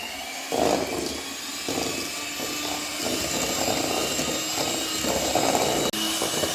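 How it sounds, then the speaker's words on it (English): Egg yolks and mascarpone cream for tiramisu are whisked together in a bowl, a steady, fairly loud whirring that runs without a break for several seconds. "we just introduce the mascarpone, cheese, a little bit at a time, and we proceed to whisk"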